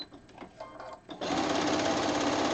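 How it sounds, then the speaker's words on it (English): A sewing machine doing free-motion quilting starts up after a second of quiet room sound and then runs at a steady, fast, even whir, close and loud, with no talk over it. "I'm just going to keep quilting it this way."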